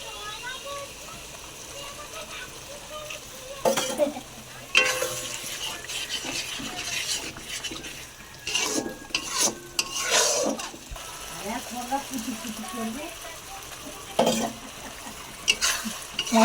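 Spice paste of chili and turmeric for homemade biryani being stirred and fried in a pan, with a steady low sizzle and repeated utensil scrapes and knocks that come in bursts, under a voice talking now and then.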